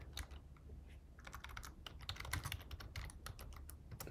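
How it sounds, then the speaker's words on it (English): Someone types on a computer keyboard, a quick irregular patter of keystrokes that comes in bursts and runs throughout, close and fairly quiet with no voices. "let's type it in again."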